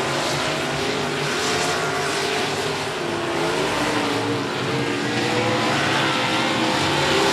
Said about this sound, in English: Here comes the inside 77 of Jason Pena trying to keep down there